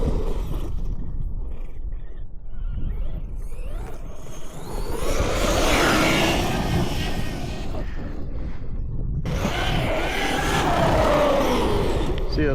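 A Traxxas Sledge RC monster truck runs fast on a street, giving a loud, rough, continuous roar and rush with rising and falling motor whine throughout.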